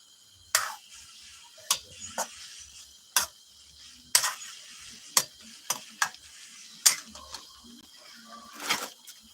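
Homemade pork rinds stirred in rendering oil in a home kitchen: sharp, scattered clicks and scrapes over a faint steady sizzle, about a dozen distinct taps at an irregular pace, fairly close.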